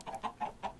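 Chickens cluck close by in a quick run of about five short, evenly spaced calls, with no other sound between them.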